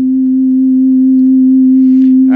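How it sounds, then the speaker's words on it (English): A steady, pure synthesizer tone from an SK1 holds a single pitch for about two seconds, loud and unwavering, with a faint breathy hiss creeping in near the end and no voice. "this is what the SK1 sounds like from its basic sound synthesizing tone"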